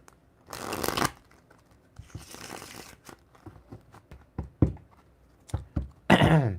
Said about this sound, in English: Let's give these a bit of more of a shuffle.